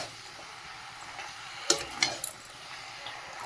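Spice masala sizzles softly in a pan in a home kitchen, with a steady low frying hiss broken by a few sharp clinks and scrapes of a spoon stirring against the metal, near and without talk.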